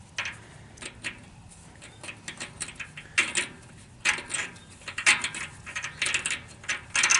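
Steel thread tap turned by hand into a drilled hole in a workshop, giving repeated soft ratcheting clicks and scraping bursts at close range, irregular and uneven over several seconds with no talking.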